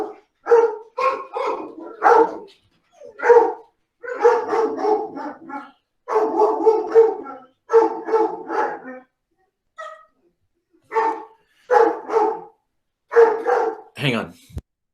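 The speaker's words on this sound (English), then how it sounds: "you too get to listen to my dogs" Several pet dogs bark in repeated close bursts, loud, with short pauses between volleys and a few yips and a whimper toward the end.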